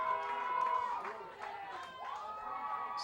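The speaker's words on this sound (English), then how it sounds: "Crowd here at Collins Purley getting into it a little bit" Crowd at Collins Perley stadium during a Vermont Voltage soccer match against Ocean City, a steady wash of cheering and chatter with a few rising shouts, moderately distant and continuous.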